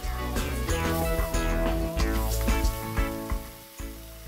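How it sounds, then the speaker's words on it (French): Cantonese fried rice stirred constantly in a pan over high heat, with a steady close sizzle and frying crackle running throughout and occasional scraping clatter of the utensil. "Remuez constamment, toujours sur le feu, à feu vif, pour laisser le liquide s'évaporer."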